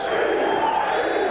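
A boxing crowd in an arena in Tampa chants in unison for a knockout fighter nicknamed Beast, a dense, sustained roar of many voices heard briefly and fairly loud.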